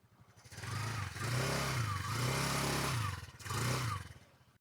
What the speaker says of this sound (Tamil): இப்போ கொஞ்சம் வந்து ஆக்சிலரேட் பண்ணி பார்ப்போம்.